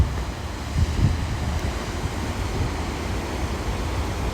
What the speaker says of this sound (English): Let's see how the waves are looking for the surfers out there.